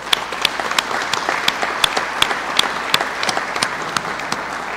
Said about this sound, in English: And I just want to give them a round of applause.